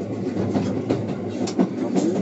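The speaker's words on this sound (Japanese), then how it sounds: "列車は現在只見川を渡っています" A train on Japan's Tadami Line rumbles steadily across a bridge over the Tadami River with a low, continuous roar and faint rhythmic clatter, close by, with no voices.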